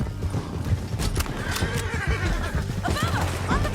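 Horse whinnies and hoofbeats in the video game Red Dead Redemption 2 during a chaotic escape, with a rising neigh near the end, under dense game music, shouting voices and background clatter.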